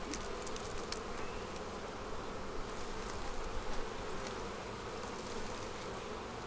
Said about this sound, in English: we have a lot of bees.